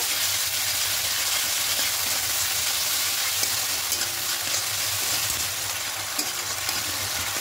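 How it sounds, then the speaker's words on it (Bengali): Tomato, onion and ginger-garlic paste sautéing in a pan for a spiced goat offal dish (gile mete), giving a steady, close sizzle with soft stirring scrapes throughout and no talking. "এবার এখানে আদা রসুনের পেস্টটা দিয়ে দেবো। 1 চামচ মতোই দেবো, দিয়ে আরও ভালো করে কষিয়ে নেব।"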